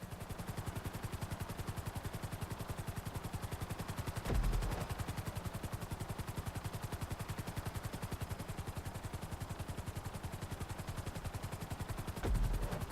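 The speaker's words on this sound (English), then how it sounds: "this is the helicopter they give you in these challenges" Frogger helicopter in GTA V flying steadily, its rotor chopping in a fast, even rhythm that runs throughout with no pauses, plus two brief low thumps along the way.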